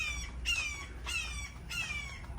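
A noisy bird in a Florida preserve behind a backyard lanai gives several harsh, raspy squawks spaced about half a second apart, clear and moderately close over a low outdoor hum.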